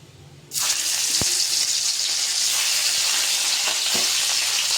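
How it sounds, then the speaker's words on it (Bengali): Salted, turmeric-coated rohu fish slides into hot oil, and after a brief quiet moment a loud, steady sizzle bursts up and holds, with a sharp utensil click early on. No one speaks. "রুই মাছটাকে নুন দিয়ে ঝরিয়ে রাখা হয়েছিল, তারপরে হলুদ দিয়ে মাখিয়ে তেলে ছাড়বো।"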